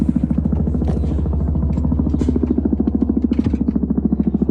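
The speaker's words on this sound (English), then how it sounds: "Now we've got all kinds of big helicopters flying over us." Several large helicopters pass overhead, their rotors beating in a steady, loud chop with a constant engine drone, continuous throughout and with no talking.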